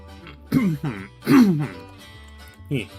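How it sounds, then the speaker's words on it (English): Several short, rough throat-clearing bursts close up, a couple of strong rasps in the middle and a smaller one near the end, with no talking. "Gotta clear my throat a whole bunch."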